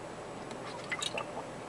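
Someone takes a drink from a bottle, close and quiet, with soft liquid gulps and small wet squishing clicks over a steady background hiss.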